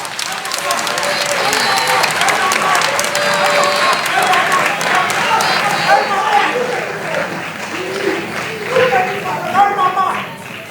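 An audience at a Ghanaian school quiz competition applauds a team, with sustained crowd clapping and cheering that stays loud for the whole stretch while voices call out over it.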